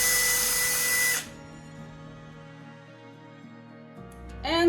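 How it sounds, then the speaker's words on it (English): An 18-volt cordless drill whines loudly at speed, cuts off abruptly to a faint low hum, then spins back up with a rising whir at the very end. "you can hear the difference in the motor turning when you start"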